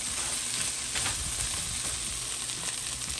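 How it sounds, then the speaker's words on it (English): Sliced eggs being stirred into Venezuelan fried rice (arroz chino) in a hot pan, giving a steady close sizzle and frying hiss with soft scraping stir sounds throughout. "I sliced the eggs up, and they're cold now, so I'm going to stir them up."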